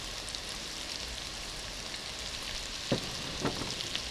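Chili, ginger, lemongrass and lime leaves frying in a pan make a steady, fairly quiet hiss and crackle, with a couple of brief louder pops or stirring knocks near the end.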